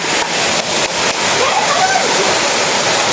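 Waterfall at a swimming spot, a steady loud broadband roar of falling water throughout, with people talking and calling out over it.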